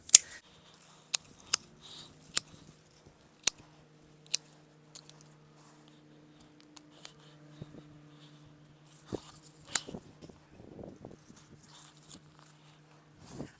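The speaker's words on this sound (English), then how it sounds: "Just give it a little bit of trim back. Some of its older stuff." Shears trimming back older growth on a salvia plant, a scattering of sharp snips and crisp cuts spread across the clip, with soft rustling and a low background hum.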